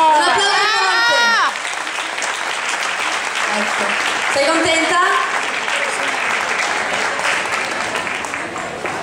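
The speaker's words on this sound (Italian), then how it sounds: "Un applauso per te." Crowd applause breaks out for a competitor at a contest in Santa Maria di Campagna, steady and fairly close for several seconds, while a voice speaks over it near the start.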